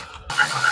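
Mechanical ratcheting from a Milwaukee right-angle ratchet backing out transmission bolts on a single-turbo N54 BMW, a short close whir-clicking burst starting after a brief pause.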